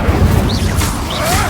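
Incendio fire spell cast during Hogwarts Legacy gameplay, a loud, dense burst of roaring, crackling blast sound lasting over a second, with swooshing magical tones over it.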